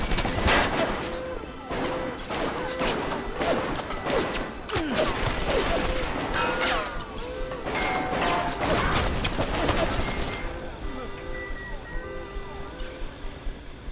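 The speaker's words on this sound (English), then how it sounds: "Here come the turrets." Turrets firing in BioShock, a dense run of sharp, rapid gunshots and metallic impacts for about ten seconds, then quieter mechanical sounds; a voice speaks over parts of it.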